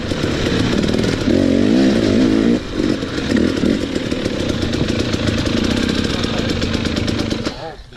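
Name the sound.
motorcycle engine revving with aftermarket carburetor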